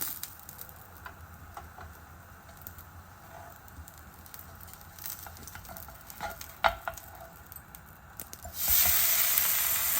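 Spicy uttapam topped with onion, carrot and green chilies frying on a pan, a steady low sizzle with faint ticks and a light scrape, then a louder burst of hiss near the end.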